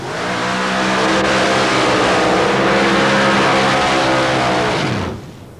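A 351 cubic inch Ford V8 in a 1923 Ford Model T paddle-tire mud racer roars at full throttle, loud and sustained for several seconds before cutting off abruptly.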